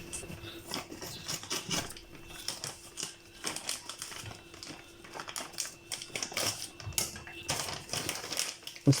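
A plastic package of detergent is torn open and handled, giving steady crinkling and crackling with small rustles throughout, close to the microphone and with no speech.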